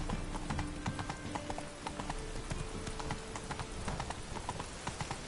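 Horse galloping in the video game The Witcher 3, rapid rhythmic hoofbeats close and steady throughout, with faint game music or ambience beneath.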